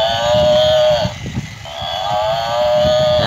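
A battery-powered toy cow gives out loud electronic mooing calls, two long synthetic moos separated by a short pause, close and alone without talk.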